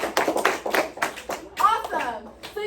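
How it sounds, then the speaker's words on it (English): Students in a classroom clap for classmates in a few short bursts, fairly close, followed by someone speaking over the fading claps. "Let's clap it up for them,"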